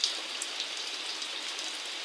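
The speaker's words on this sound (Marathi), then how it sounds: "अचानक भयानक हा एवढा पाऊस आलेला आहे" Heavy rain on a farm pouring down in a steady, dense hiss of drops hitting surfaces, continuous and close, with no voices.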